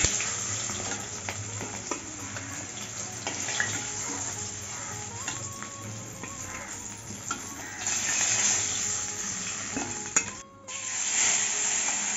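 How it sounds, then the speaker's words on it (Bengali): Rui fish fries in hot oil for a Bengali rui posto dish, giving a steady bubbling sizzle throughout, with faint utensil clinks and a brief dip near the end. "সব মাছগুলি ভেজে তোমাদের দেখাচ্ছি।"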